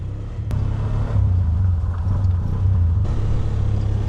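A tuk tuk's small engine drones steadily as it drives down a road in rainy Cambodia, a low close rumble with slight shifts in pitch and no talking.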